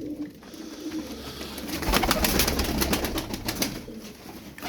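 A pigeon coos repeatedly at close range, its soft throaty calls rising and pulsing against a low background hum.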